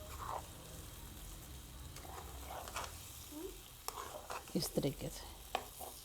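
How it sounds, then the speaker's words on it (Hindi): Achar gosht, a chicken pickle-spiced curry, being stirred in a pan, with scraping and clinking over a faint sizzle, and a few louder knocks near the end under brief soft talk. "मैं इसको मिक्स करके फिर ऊपर ढकना दे देंगे इस तरीके से"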